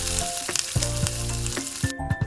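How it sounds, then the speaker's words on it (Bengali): Large eggplant fritters (beguni) deep-fry in white oil with a loud, close, bubbling sizzle, and sharp spits and crackles burst out at intervals as they cook. "এখানে বেগনিগুলোকে ডুবো তেলে ভাজবো, কারণ বড় বড় বেগনি আছে সেই জন্যে।"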